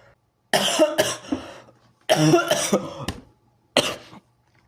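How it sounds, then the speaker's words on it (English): Harsh, close coughing fits come in three clusters separated by quiet pauses, each a run of rough bursts ending in a single sharp cough. "If this coughing doesn't kill me before then."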